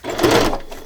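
A sewing machine runs for a brief stitching burst while sewing a ring-bound December Daily craft album, a short close mechanical whir that fades out within a second.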